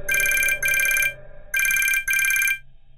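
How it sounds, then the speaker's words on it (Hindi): A telephone rings with an incoming call as a sound effect in a Hindi horror story, two loud double bursts of bright electronic ringing separated by a short gap. "तभी उसके फोन पर एक कॉल आती है"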